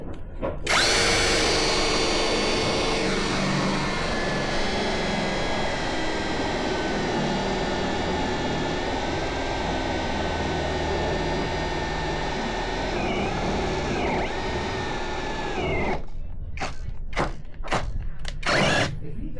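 A Tanzu power drill runs continuously at high speed for about sixteen seconds, a loud, close, whining motor drone, then cuts off and gives a few quick short bursts as the trigger is tapped.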